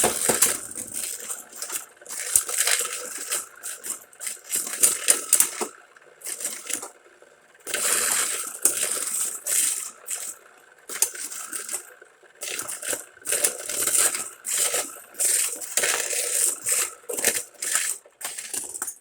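Motor Strike set Beyblades clash and scrape inside a spinning stadium, a dense, continuous rattle of metallic clicks and grinding in repeated bursts with brief gaps, close and loud.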